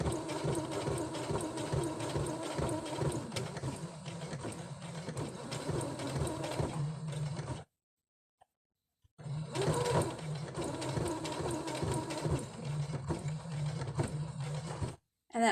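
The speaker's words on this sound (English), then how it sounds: "you can manually roll your needle down and up through some really thick areas of fabric" A sewing machine runs in two long steady bursts of stitching through thick fabric for a Christmas fabric book, a close mechanical whirr with a short pause between runs.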